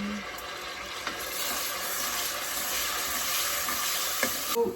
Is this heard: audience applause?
no